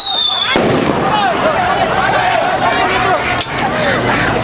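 Firecrackers hurled by a crowd during a street clash with officers over street-vendor stalls in Makassar, loud crackling bursts over constant crowd noise and shouting, with a sharp blast near the start and another near the end.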